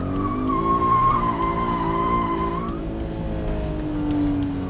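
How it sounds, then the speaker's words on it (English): Tires of a Scion FR-S squealing steadily as the car drifts around a skid pad, a sustained close screech over a continuous engine drone, with the pitch sliding and easing off partway through. "here they are, providing a lot more controllable drift around this skid"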